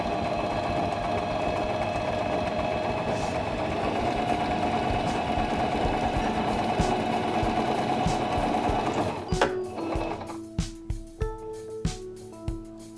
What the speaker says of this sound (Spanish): Ahora cambia de puntada y cose otra línea